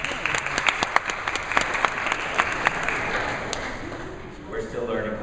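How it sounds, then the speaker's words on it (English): Sustained audience applause fills a college swimming awards ceremony, steady dense clapping throughout with a few sharper claps standing out and a slight dip near the end. "Please hold your applause"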